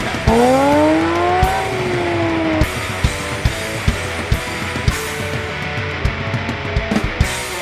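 A Porsche Cayman GT4 fitted with a Fabspeed exhaust rips along Angeles Crest Highway, its loud engine note rising sharply then dropping at a shift, followed by a burbling run of crackles and pops.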